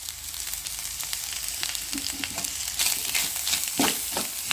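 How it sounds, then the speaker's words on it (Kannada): Oil sizzles and crackles steadily in a pan as spices fry for a tempering, with scattered pops and a stirring scrape throughout. "ಇದನ್ನು ಚೆನ್ನಾಗಿ ಈ ಒಗ್ಗರಣೆಯಲ್ಲಿ ಫಸ್ಟು ಹುರ್ಕೋಬೇಕು"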